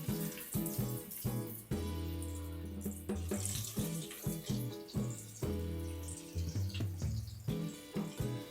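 Hands being washed under a running kitchen tap, a steady close rush of water broken by repeated splashy interruptions as hands move through the stream; no talking.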